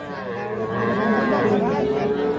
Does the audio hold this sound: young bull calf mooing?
yes